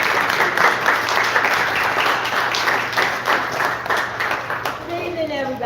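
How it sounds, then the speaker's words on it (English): Applause from the audience at a community peace summit, a fairly even patter of clapping that thins toward the end as a voice begins speaking over it. "So let's give her a clap."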